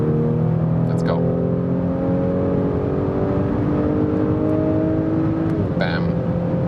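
An Audi S4 V6 accelerates hard as the exhaust note climbs steadily, then dips on a manual upshift before rising again, loud and continuous from inside the car.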